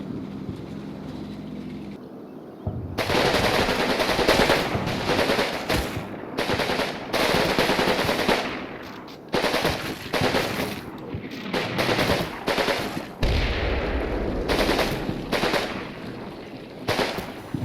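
Sten submachine guns firing in the Combat Mission Normandy video game, Fortress Italy, August 1943, with loud sustained bursts of automatic fire and brief pauses, several overlapping volleys close and harsh, no voices.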